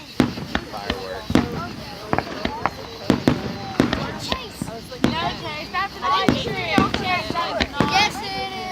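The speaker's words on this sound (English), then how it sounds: "They go for a long time with the fireworks." Fireworks burst during a long 2013 display in Maumelle, loud sharp booms and crackles arriving in irregular succession, mixed with crackling tails while people talk nearby.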